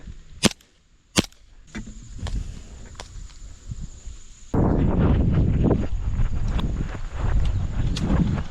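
An airsoft gun fires in an outdoor skirmish: a few sharp, isolated snaps, then a busier stretch of clicks and rustling with more scattered shots.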